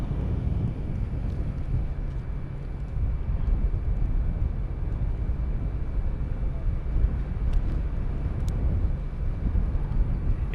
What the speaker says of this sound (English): that Cape Air flight that just landed right now was going to be Cape Air KAP 35